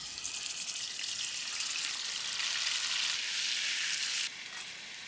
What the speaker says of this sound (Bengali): এখন আমি মাংসগুলা ফ্রাই প্যানে তেলে ভাজে নিব।